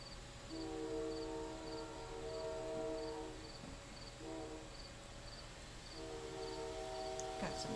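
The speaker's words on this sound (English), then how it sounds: "train noises in the back" A train passes in the background, faint but steady, its long horn sounding in sustained tones that stop and restart across the clip over a low rolling rumble and a chirping insect.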